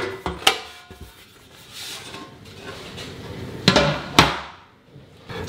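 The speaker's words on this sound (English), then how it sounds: "let's open up the lid here" Metal side lid of an HP 8100 Elite small form factor desktop case being unlatched and opened, with a few sharp clacks and knocks over soft handling rustle, close and fairly quiet.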